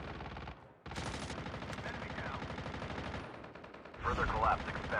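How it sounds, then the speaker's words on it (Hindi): Rapid automatic gunfire from a Call of Duty match on the Alcatraz map, loud bursts of shots filling most of the stretch, breaking briefly and then returning in a heavier, denser volley near the end. "पीछे से दूसरा बंदा देखो मुझे गोलियाँ मारता है।"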